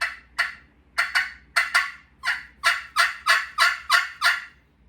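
A hand-played turkey call yelps in quick, rhythmic bursts, about a dozen sharp close calls grouped in short runs with brief pauses between, loud and clear with no talking.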